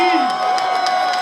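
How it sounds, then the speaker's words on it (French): Audience cheering and applause at an evening showcase event, a dense roaring crowd with whoops, loud and sustained, with a voice heard over it. "Un tonneur d'applaudissements du public"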